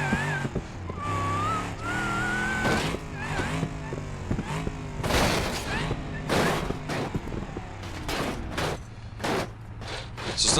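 A body-on-frame car with a roll cage revs and roars down a street in BeamNG Drive, then bangs and crunches through repeated hard impacts and landings, loud and close with engine whine throughout.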